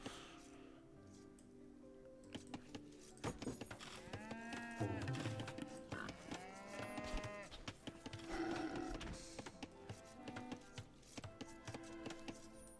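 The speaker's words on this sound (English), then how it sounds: "Has to go for the cow now." Cattle in the video game Age of Empires II let out several drawn-out moos over soft background game sounds, fairly quiet, without talk.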